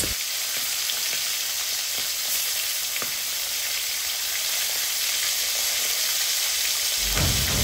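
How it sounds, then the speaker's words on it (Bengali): Pieces of pangas fish fry in hot oil in a wok, giving a steady, dense sizzle and crackle that holds through the whole stretch, with a few sharper pops and a slightly louder burst near the end. "এখন একটা কড়াইতে পরিমাণ মতো তেল দিয়ে এর মধ্যে দিয়ে দেব মাছ।"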